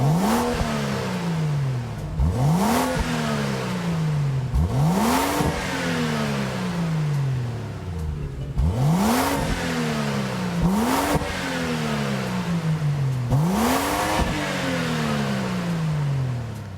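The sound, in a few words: BMW Z4 2003 engine revving in video game Gran Turismo 7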